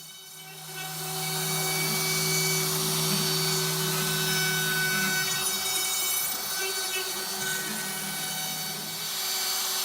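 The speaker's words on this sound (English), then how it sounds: "So I'm using the CNC machine not only to cut the pockets," A CNC machine routs the pickup and tremolo pockets and the contour carve into the body of an Apollyon Floyd Rose carve-top guitar, giving off a steady, loud whine with sustained tonal hums that shift partway through.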